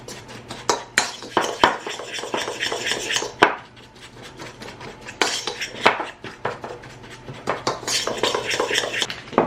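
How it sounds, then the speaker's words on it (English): A utensil stirs a mixture with cinnamon in a bowl, sending out bursts of rhythmic scraping and clinking against the sides, broken by short pauses and a few sharp knocks. "I'm just going to stir this together"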